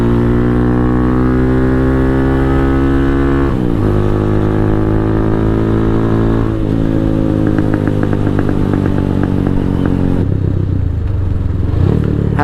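A Venom X22R motorcycle runs steadily and loud throughout, its engine note rising and falling through gear changes with several shifts, close to the rider and with no voices.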